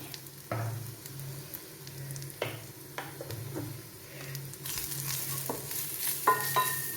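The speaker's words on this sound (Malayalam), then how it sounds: "പൊടികൾ ചേർത്തു അതൊന്ന് വഴന്ന് വന്നിട്ടുണ്ട്" Chilli, coriander, garam masala and pepper powders fry in a pan, a continuous close sizzle with repeated scraping and tapping of a spoon as they are stirred, the hiss growing brighter later, no talking.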